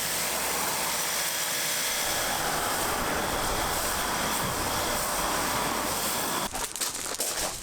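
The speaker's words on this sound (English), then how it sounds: "set it to cleaning mode, which is the highest spray pressure mode, and start spraying" A Bosch cordless pressure washer on its highest-pressure cleaning mode sprays a flat jet onto wood, giving a loud, steady hissing roar that runs almost unbroken and cuts off briefly near the end.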